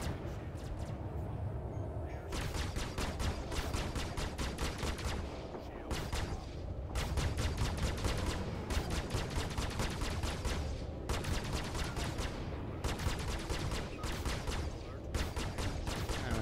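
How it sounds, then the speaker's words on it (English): A Gladius ship's Gatling gun in Star Citizen rattles in long rapid-fire bursts separated by brief gaps, loud and sustained, with a low engine rumble underneath. "Gatling gun noise."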